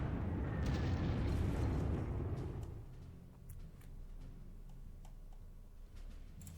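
Game explosions from a Dornier bomber attack in the World War II strategy game Panzer Corps: a loud, rumbling blast that swells and then settles into a lower, steady roar with faint ticks, with no voices.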